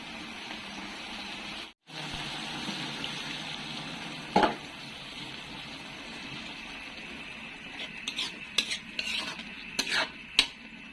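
Eggplant being stir-fried with soy sauce in a pan, a steady low sizzle under scraping and clinking of a utensil against the pan, with a brief sharp clatter midway and busier stirring knocks toward the end.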